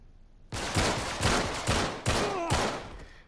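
Enemies fire shotguns in the video game Uncharted 3: about five loud, sharp blasts spaced roughly half a second apart, each with a brief ringing decay, with no talk over them.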